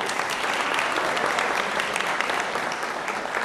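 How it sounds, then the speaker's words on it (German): Wedding guests give a burst of applause for the groom, a dense, loud wash of clapping that holds steady for a few seconds, close and without talk. "Großen Applaus für Viktor."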